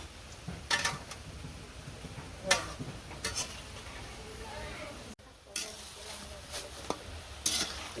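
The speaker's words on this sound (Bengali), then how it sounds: "বড়া ভাজা হয়ে গেছে" Fritters sizzle in hot oil with a steady hiss, broken by occasional clinks and scraping stirs from a utensil.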